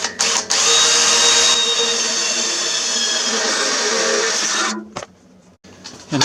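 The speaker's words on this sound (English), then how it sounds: "I got to drill a hole right in my perfect panel." A power drill bores a hole through a metal body panel: a loud, steady whirring grind that runs for several seconds, then cuts out and leaves a few brief clunks.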